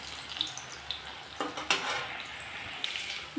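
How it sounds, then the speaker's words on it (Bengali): Lentil cakes frying in oil, a soft steady sizzle with a few light clinks and scrapes of a utensil, quiet and close, with no talking. "ধোকাগুলো লালচে লালচে করে ধোকাগুলোকে আমি ভেজে নেব।"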